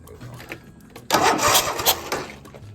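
A riding lawnmower engine on a farm, with an exhaust fault near the manifold, is cranked and catches about a second in, then runs loud and rough nearby, its noise wavering and pulsing.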